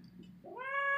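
A cat meows from inside a ceiling, starting low and muffled, then rising into a loud, drawn-out harmonic wail that grows stronger to the end.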